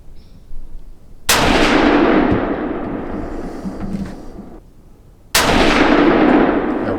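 A Savage Axis 350 Legend rifle fires Winchester Power Max Bonded 160-grain rounds, giving two loud, close, sharp shots a few seconds apart, each followed by a long rolling echo.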